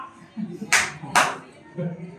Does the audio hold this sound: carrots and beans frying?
no